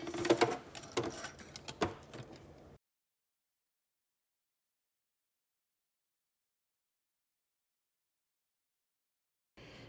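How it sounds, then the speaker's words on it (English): Sewing machine stitching a few forward and back stitches on a garment seam, a short burst of quick mechanical tapping and whirring for under three seconds, then silence until a brief resumption at the end. "stitch right on the seam itself, about 3 or 4 stitches, forward, forward, and then maybe even back again."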